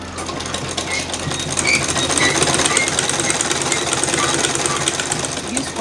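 A sewing machine runs steadily, stitching a pocket onto a pair of shorts with a quarter-inch seam, its rapid mechanical whirr continuing throughout at close range with light background noise.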